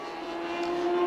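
Race car in a 2016 Radical European Masters race at Spa-Francorchamps carrying speed into the pit lane, a steady, close engine tone holding a high pitch and swelling slightly louder over a brief second.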